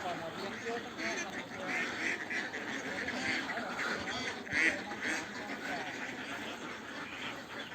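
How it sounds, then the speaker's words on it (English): A large flock of ducks quacking continuously in a dense, noisy chorus, close and loud, with people talking over it. "So many ducks."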